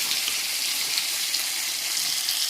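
Chopped tomato and ginger-garlic-green chili paste hit frying onions in a pan while cooking vetki fish-bone chorchori, giving a steady, close, even sizzle with no talking.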